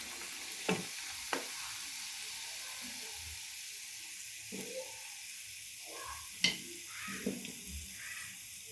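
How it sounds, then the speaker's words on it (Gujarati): Stuffed karela mirchi vadas fry in hot oil with a low, steady sizzle, broken now and then by a few sharp clinks and knocks from a spoon or pan. "હવે ગરમ તેલમાં આપણે ફ્રાય કરી લઈએ."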